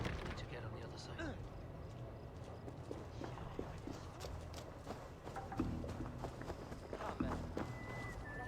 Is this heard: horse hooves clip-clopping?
yes